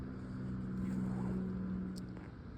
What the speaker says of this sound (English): we've got the traffic noises